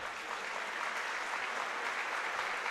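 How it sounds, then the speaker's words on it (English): Spectators at a high school basketball game applaud an injured player, a steady wash of clapping from a large indoor crowd that holds evenly for a few seconds without any talk. "Nice gesture from the crowd to give him some applause"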